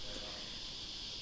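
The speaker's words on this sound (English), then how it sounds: "It's not raining. It's the cicadas." Summer cicadas keep up an unbroken, shrill buzzing chorus, a constant high hiss that fills the background evenly from start to end.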